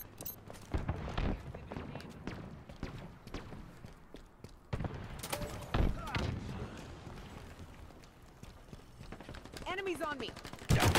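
Magnum pistol gunshots in Halo Infinite Team Slayer multiplayer on the Streets map, sharp single reports scattered through the clip amid footsteps, other gunfire and game noise, with a few brief chirping effects near the end.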